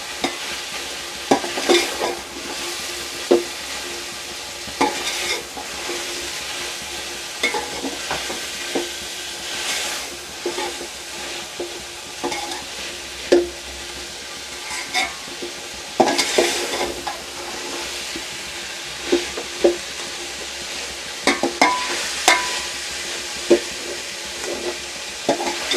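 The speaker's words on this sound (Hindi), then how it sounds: "एक से 2 मिनट तक अच्छी तरह इनको भून लेंगे।" Mixed vegetables stir-fried in a pan for a chicken and vegetable rice dish, a steady sizzle broken by repeated scraping and stirring clatters of a spoon, close and without talk.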